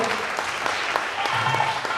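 An audience claps steadily at a dance competition, a dense, even patter of many hands filling the room, with a voice speaking faintly through it.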